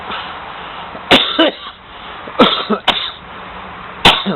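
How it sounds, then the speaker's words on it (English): A person coughs several times in sharp, close bursts, with short pauses between the coughs. "it always makes me cough"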